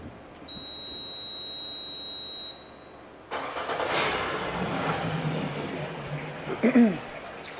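A 2013 Suzuki 90hp four-stroke remote outboard boat motor with fresh oil and a serviced fuel system: a steady electronic beep, a pause, then the starter cranks and the engine catches into a close idle.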